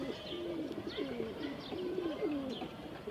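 A pigeon from a home pigeon loft coos in a steady, repeated rolling pattern close by, over a constant background hiss, with no talking.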